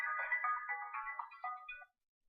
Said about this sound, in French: maintenant c'est le téléphone qui a décidé de...